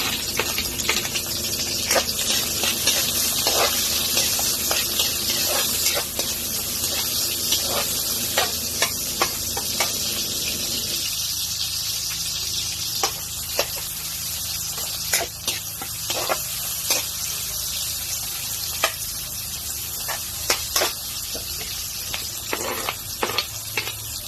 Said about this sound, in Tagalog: Sinulog ko yung bawang.